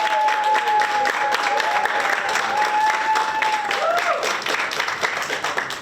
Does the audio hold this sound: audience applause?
yes